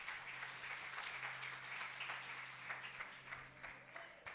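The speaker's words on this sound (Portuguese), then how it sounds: "Aplauda bem forte o nome do Senhor" Congregation applauding during a church doctrine service, a steady patter of many hands clapping at a moderate distance, with a faint voice underneath.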